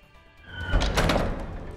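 A door swings open in a dramatized reading, a single heavy, resonant movement that builds over a second or so, close and clear with no talking over it.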